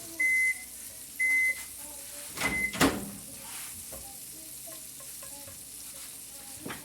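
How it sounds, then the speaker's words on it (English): Butter sizzles and crackles in a big, hot frying pan with a steady hiss, broken by a few short electronic beeps early on and a louder scrape or clatter near the middle. "So just coat the bottom of the pan with butter."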